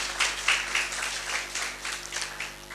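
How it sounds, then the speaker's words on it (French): Audience applause for candidates at a student leadership debate, a steady wash of many hands clapping throughout, fairly close and continuous with slight swells. "Sous vos applaudissements."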